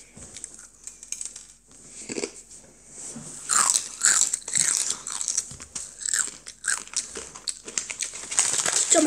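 A child crunches and chews a crispy ramen noodle snack close to the microphone, with irregular bites and crackles growing denser and louder over several seconds, and no talk.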